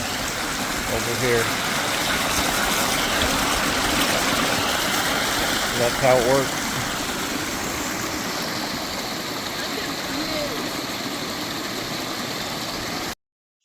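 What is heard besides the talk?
water flowing out of coanda screen stream intake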